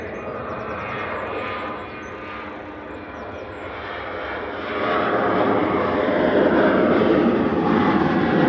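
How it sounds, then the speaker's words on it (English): A Ryanair jet accelerates down the runway on its take-off roll at Manchester Airport, bound for Mahon, Menorca, with a broad, distant engine roar that swells louder midway and holds steady. "Ryanair on the roll to Mahon EIDPP with flight"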